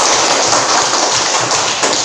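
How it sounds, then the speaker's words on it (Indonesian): A school class claps hands together for everyone, a dense, loud burst of many hands clapping close by, steady and continuous with no talking. "Tepuk tangan untuk semuanya dulu."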